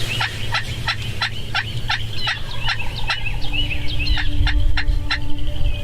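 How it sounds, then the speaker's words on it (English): Wild turkeys during spring turkey season, gobbling repeatedly from nearby in a rapid series of sharp, rattling calls, with other birds chirping and a low outdoor rumble underneath. "they flew down and continued to gobble"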